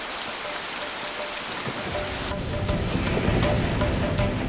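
Heavy rain pours down during an unseasonal March storm in Sri Lanka, starting as a steady hiss and then swelling into a dense, loud downpour close by, with no voices.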